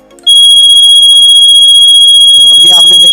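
A motion sensor security alarm for home, office or shop is triggered by a hand and sounds a loud, piercing, continuous electronic tone that starts abruptly and holds steady, with someone talking underneath.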